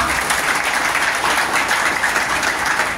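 Sustained audience applause fills a conference hall at a political rally, a dense, steady clatter of many hands clapping at once, moderately loud and continuous throughout with no voices standing out.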